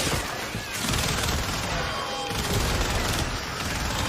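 Bursting Prime gunfire in Warframe roars as a dense, continuous barrage of rapid shots and impacts, loud and unbroken throughout.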